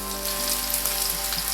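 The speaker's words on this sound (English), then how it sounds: "that's the exact sound that you want to hear when you put your steak in the oil. You want to hear that sizzle." Steak sizzling as it goes into hot oil in a pan, a steady, loud frying hiss with faint crackles throughout, no voices.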